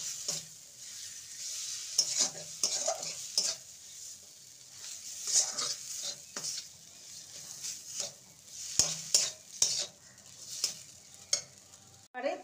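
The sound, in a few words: stirring mashed potato filling in a pan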